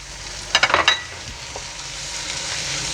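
Tomatoes land in a hot pan of frying cauliflower and potato for aloo gobhi, giving a brief clatter and burst of sizzle. A steady, close frying hiss follows without talk.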